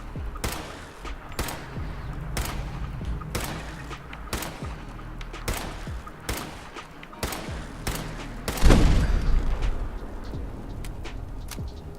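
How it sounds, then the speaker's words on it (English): An automated turret fires in Fallout 4 at Fort Hagen, its sharp gunshot bursts cracking out in a steady rhythm about every half second over a continuous rain-like hiss, with one heavier blast near the end. "Nick was down but managed to crawl away from the turret's fire."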